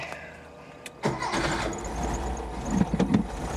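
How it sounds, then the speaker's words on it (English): A Porsche 914's small air-cooled Volkswagen engine cranks and fires up, then settles into a steady rumbling idle nearby, with a faint squeal near the end. "It's your air-cooled Volkswagen engine."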